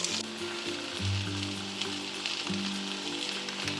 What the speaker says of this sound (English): Now we are adding capsicum.